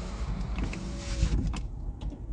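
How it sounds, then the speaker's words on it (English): A car's power window motor winds the glass up in a short whirring run lasting around two seconds, close by and moderately loud, ending with a faint thump as it stops. "Wind up my window, I don't want to hear no breeze, nothing."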